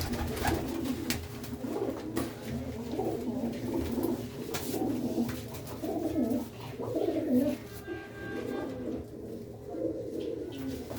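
Pigeons in a pigeon fancier's collection coo and murmur steadily throughout, a close, continuous flock sound with soft rustling and faint background noise.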